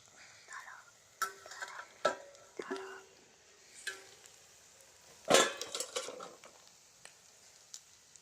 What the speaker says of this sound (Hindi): अब गाइस, हम लोग ये इसको अच्छी तरह से मिक्स कर लेंगे